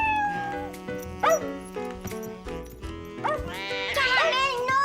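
Caramel, a cartoon dog, barks and yips in a few bright, close outbursts over a busy animated scene, with a child's and adults' voices talking around it.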